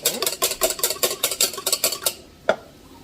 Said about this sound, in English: I'm just going to be whisking this together